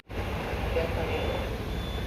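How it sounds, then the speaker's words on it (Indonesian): A ship's navigation off-heading alert alarm sounds as a steady continuous electronic tone over low engine and room hum, close and unbroken for the whole stretch. "Off-heading alert sudah muncul. Ini alarmnya."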